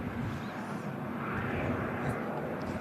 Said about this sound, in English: There goes the Air France, headed back to Paris Charles de Gaulle